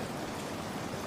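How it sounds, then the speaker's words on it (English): Steady rain falling outside, a soft, even hiss of drops heard at a low, constant level with no other sounds. "Outside, the rain falls,"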